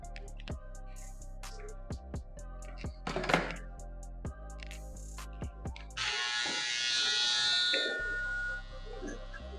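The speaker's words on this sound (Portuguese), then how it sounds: "Essa sobra eu vou tirar aqui com a máquina de acabamento e a shaver." A finishing hair trimmer and a shaver cut hair during a fade haircut. Sharp clicks and brief bursts of buzzing give way to a sustained, close electric shaver hum near the end.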